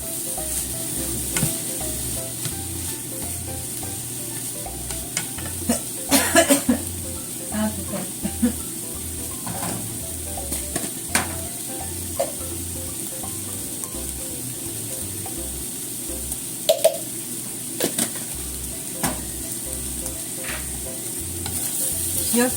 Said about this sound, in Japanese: 卵も一緒に炒めますよ。